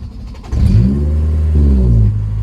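A JDM Honda S2000 running a MaxxECU fires up instantly with a loud, close bark and a quick rev, then settles straight into a smooth, steady idle.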